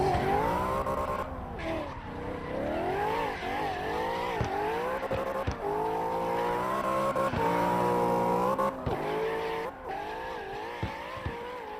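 Drift car at a qualifying round sliding sideways, its engine held high and wailing with shifting pitch and tire squeal, a loud continuous sustained roar with brief dips.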